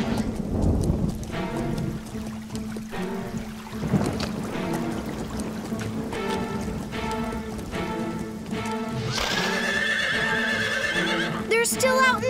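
Horses neigh and whinny repeatedly while hooves clip-clop in an animated storm scene, with rain pattering underneath and a long, loud whinny toward the end.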